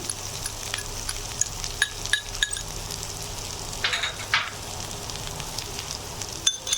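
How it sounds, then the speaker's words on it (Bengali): Chicken and chopped vegetables sizzle steadily in a pan while being stirred, with scattered clinks of a utensil against the metal and a brief louder burst of spattering midway. "এখন আমি সবজি সহ মাংসটা ভালো করে নেড়ে চেড়ে একটু ভেজে নেব"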